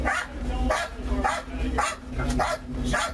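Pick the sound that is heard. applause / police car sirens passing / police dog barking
police dog barking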